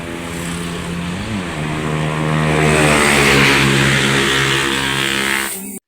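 A remapped motorcycle on a test ride, its engine revving hard and close, pitch climbing and holding a loud whine for several seconds before cutting off abruptly.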